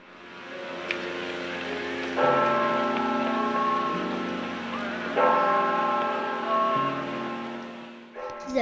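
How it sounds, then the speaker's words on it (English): Bells of a Spanish mission in California ringing, sustained resonant tones that restrike every few seconds and overlap in long ringing decays, loud and fairly close with a rumbling wash beneath. "The bells were rung at mealtimes to call mission residents to work and to religious services."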